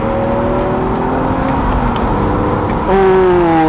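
A 2007 BMW Z4 M Roadster accelerates from inside the cabin, its engine drone climbing steadily in pitch, then dropping and surging again with a louder, higher note after a gear change.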